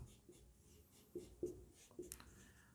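Pen strokes on paper as a math solution for a Class 12 definite-integral exercise is written by hand, faint close scratches and taps in short irregular bursts, with no voice.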